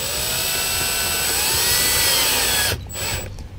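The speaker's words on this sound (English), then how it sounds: "make sure that there's nothing behind what you're drilling into" A power drill bores into an interior panel while installing a trailer brake controller bracket on a 2018 Jeep, a loud steady whine that cuts off abruptly near the end, followed by a brief lighter spin.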